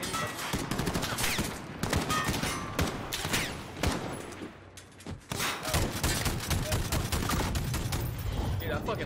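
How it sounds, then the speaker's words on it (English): A gun in Call of Duty Modern Warfare fires in long, dense bursts of loud, rapid shots that barely pause, mixed with combat thumps and shouted voices. "I fucking love this gun. You hear that shit?"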